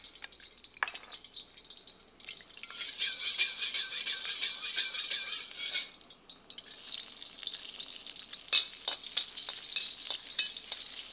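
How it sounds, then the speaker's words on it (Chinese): Garlic slices hit hot oil in a wok, producing a continuous bright sizzle and crackle that swells and settles over several seconds, with no talking. "等到这个油热了就把大蒜片下来先爆一下"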